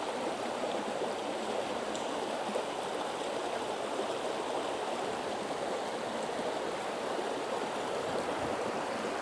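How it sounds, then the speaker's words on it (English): Continuous rushing water from several small waterfalls near Clarkson Covered Bridge, Cullman, Alabama, a steady broadband splash and gurgle heard close by with no voices. "you see there's several little tiny waterfalls here"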